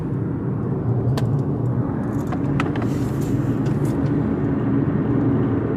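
A 2016 Toyota RAV4 with about 70,000 miles drives through Uvita, Costa Rica, giving a steady, close, low road rumble and tire noise throughout, with faint brief ticks and clicks on top and no talking.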